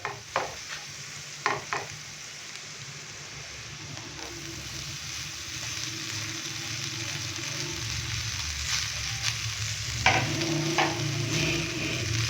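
Boiled rice is fried and stirred in a pan with black pepper, giving a steady low sizzle with repeated scraping and clattering stirs up close, sharper knocks at the start and near the end.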